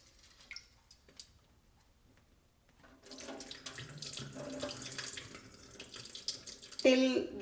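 Running tap water splashes into a vessel as dal is rinsed beside a pressure cooker, starting after a quiet opening and continuing steadily, with a louder burst near the end and faint clinks of handling.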